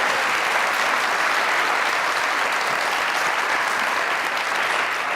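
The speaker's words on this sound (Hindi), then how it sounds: "तालियां" A large audience at a poetry gathering breaks into loud, dense, continuous applause that holds steady throughout.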